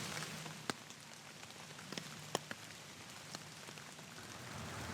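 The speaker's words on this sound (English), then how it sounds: "I'm able to stay out here in a pretty steady rain" Steady rain falls on an umbrella outdoors during a Wisconsin whitetail bowhunt, a soft continuous patter with a few sharper, louder drop hits scattered through it and no talking.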